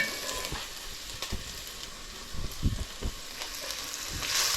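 Onions sautéing in a pan for Hungarian meatballs, a steady soft sizzle with occasional light clicks and stirring taps, close and alone.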